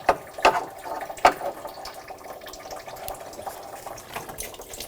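Coolant drains from the radiator reservoir of a 2000–2006 BMW X5 3.0L L6, a light trickling and splashing of liquid with a few sharper drips early on, fairly close and otherwise steady.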